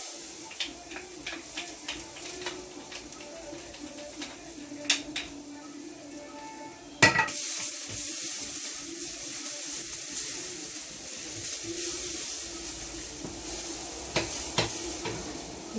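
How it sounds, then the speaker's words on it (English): Garlic sautés in oil in a pan for a cauliflower rice stir fry, with a soft sizzle and occasional utensil clicks, then a sharp clatter and a louder, steadier frying hiss. "The reason I added the oil is for me to saute the garlic a little before adding the cauliflower"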